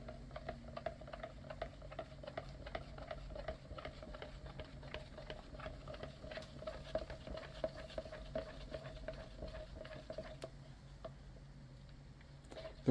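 Powder is mixed with a popsicle stick, giving a quiet, fast run of light ticks and taps close by. A faint steady hum sits beneath the stirring, and no one talks.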